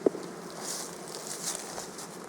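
Honeybees in an open hive during a beekeeping inspection give a soft, steady buzzing hum that runs throughout, quiet and close, with a faint tap at the very start.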